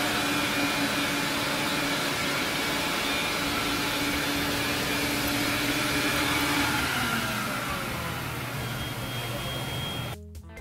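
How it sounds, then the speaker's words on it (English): Wet vacuum extractor pulling dirty water and urine residue through an Oriental rug, a loud steady suction roar with a shifting whine that drops near the end and cuts off abruptly. "After the vacuum extract all the dirty water through the rug"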